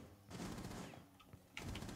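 Gunfire in a video game: dense, rapid bursts of shots, loud and close, with a brief lull before another heavy volley.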